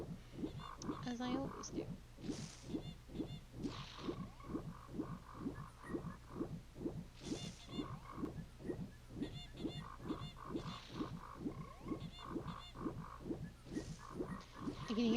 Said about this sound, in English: I can hear the frogs just going crazy. Just constant rivets.